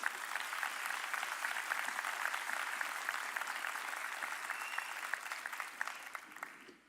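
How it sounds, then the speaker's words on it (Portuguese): A church congregation claps together during a Sunday service, a steady dense patter of many hands sustained at moderate distance that gradually thins and fades out at the end. "Dê um aplauso para Jesus."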